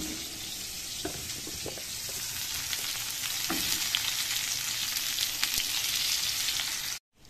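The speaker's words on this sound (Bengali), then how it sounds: "তেল গরম হয়ে গেছে, পটলটাকে ভেজে নিচ্ছি" Pointed gourd fries in hot oil with a steady close sizzle and occasional light clicks of stirring, ending in an abrupt cut of silence.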